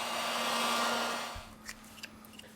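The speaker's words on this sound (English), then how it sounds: "With the help of a heat gun, we apply 90 Celsius degrees during 4 minutes." A heat gun blows a steady, loud airflow while heating the screen of a Realme 5 Pro phone, then cuts off after about a second and a half, leaving a few faint handling clicks.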